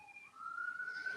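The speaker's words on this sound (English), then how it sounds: "Sirens blaring" A police siren wails, a single rising tone that sweeps upward and holds steady, moderately loud and fairly close, with no voices over it.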